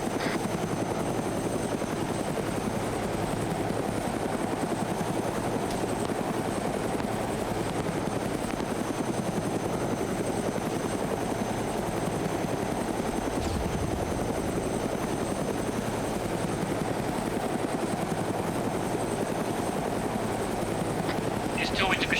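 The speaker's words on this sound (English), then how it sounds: "Are you going to be able to shoot the helicopter down?" Helicopter in a military video game, a loud, continuous rotor drone holding steady and close for the whole stretch, with people talking over the top.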